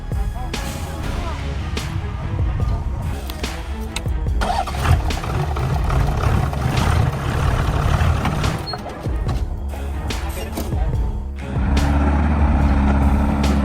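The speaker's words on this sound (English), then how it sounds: "A giant monster truck is writhing over rough roads, not for show but to carry out a higher mission" A giant, heavy monster truck grinds over rough roads with a loud, continuous engine roar, broken by sharp hissing bursts and clunks from the chassis and brakes, up close throughout.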